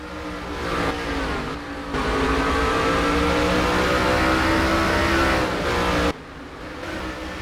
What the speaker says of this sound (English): three trucks all under a blanket right now, trying to get around Zay Zersky in the 1.